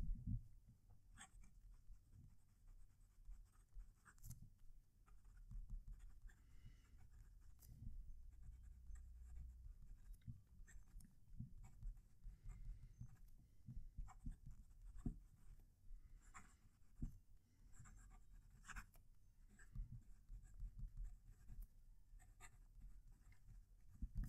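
Fountain pens, a PenBBS 494 and a HongDian 960, scratch and patter across paper in a close, quiet writing sample, with irregular strokes and pauses and no talking.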